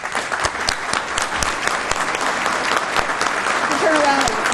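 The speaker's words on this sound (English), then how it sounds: "So Ellie and Betty, if you would stand, please, for applause." Sustained audience applause at an awards ceremony, a dense, loud patter of many hands clapping for several seconds, with scattered voices mixed in near the end.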